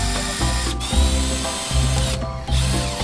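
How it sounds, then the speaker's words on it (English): A power drill bores holes into a fuel pump housing in several short bursts, the motor whining loud and close as it spins up and winds down between pauses. "So what I'll do is I'll drill 2 holes"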